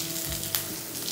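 Onion, garlic and curry leaves sizzle in hot oil in a pan, a steady close crackling hiss with no talking.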